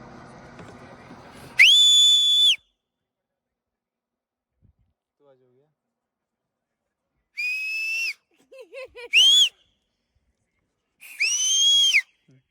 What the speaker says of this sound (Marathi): तू हे बघ शिट्टी मारते ना